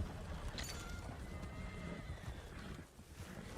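A horse in the video game Red Dead Redemption 2 whinnies amid hoof clops and game ambience, fairly faint and distant-sounding, with no talk over it.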